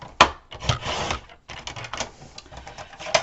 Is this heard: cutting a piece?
yes